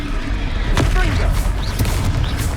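Confringo fire spells blast in the video game Hogwarts Legacy, producing a couple of sharp booming impacts over a dense rumbling battle backdrop, with a voice calling out in the mix.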